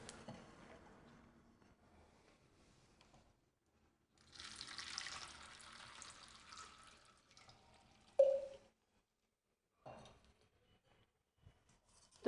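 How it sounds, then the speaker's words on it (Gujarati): Sweet potatoes cut into three pieces are swished and rinsed in water in a large vessel, with splashing and running water for a few seconds, then a short clunk and a brief splash near the end. "અને સકરિયાને પાણીથી એકદમ સારી રીતે ધોઈ લેવાના છે"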